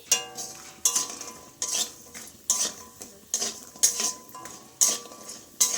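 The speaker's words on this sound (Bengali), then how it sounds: "সবার প্রথমে আমি বড়ি কটা আগে ভেজে নিচ্ছি" Lentil dumplings frying in hot oil in a kadai, with rhythmic metal spatula scrapes against the pan roughly every second over a faint sizzle.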